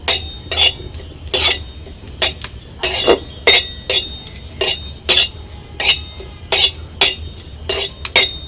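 Kasuri methi stirred in a hot kadai on a stove, producing a steady rhythmic series of sharp metallic scrapes and clinks of the spoon against the pan, close and fairly loud.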